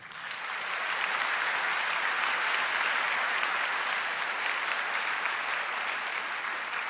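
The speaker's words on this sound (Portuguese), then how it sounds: "Aplauda essa graça." A church congregation at a Catholic Mass claps together in a dense, sustained round of applause that rises quickly and keeps an even, full level throughout.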